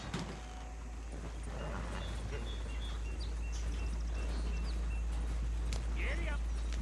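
Clip-clop of horse hooves pulling a wagon in Red Dead Redemption 2, a soft rhythmic plodding beneath a low rumble of wheels, fairly faint and steady, with a few game sound effects scattered on top.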